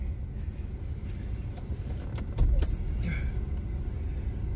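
A pickup truck driving along with a low steady engine and road rumble inside the cab, a few clicks and a louder thump partway through, and faint speech in the background.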